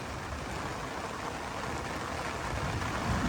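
Rain falls during a fishing trip caught in a storm, a faint, even hiss of drops that stays steady and quiet throughout, with no voices over it.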